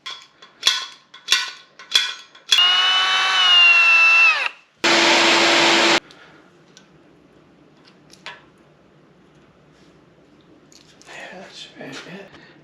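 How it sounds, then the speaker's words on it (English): A power drill whirs at high pitch for about two seconds, stops, then grinds briefly again, close up, drilling a 3/16 inch hole into a GMC 302 inline-six engine block, after a few sharp taps and clanks. "So we need to drill 3/16 inch down."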